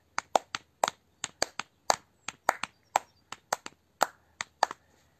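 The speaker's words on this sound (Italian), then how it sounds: "Un applauso con i piedi, forza! Piedi e mani insieme." Children's applause made with stamping feet and clapping hands during a kids' yoga class, heard as a run of sharp, separate slaps and thumps at an uneven, quickening rhythm, close and fairly loud with no talking.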